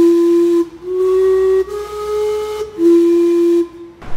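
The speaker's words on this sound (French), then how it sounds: "cette horloge là, qui est une horloge à vapeur, c'est sa particularité, ce qui fait qu'elle sonne tous les quarts d'heure" The steam clock in Vancouver sounds its quarter-hour whistle chime in several sustained, slightly wavering blasts with short breaks between them, loud and close with breathy hiss around the tones.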